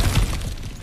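Cracked ground smashed apart in the video game God of War Ragnarok, a single brief, heavy shattering crunch with debris rattling off over under a second.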